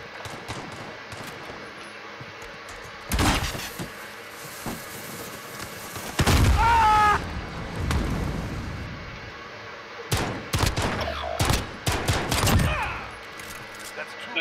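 Pistol gunfire from a 1911 in a video game: loud sharp bursts of shots in clusters, with a sudden stop before more shooting, over background game noise and a talking voice.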